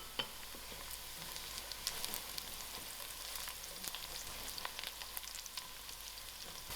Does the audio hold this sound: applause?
no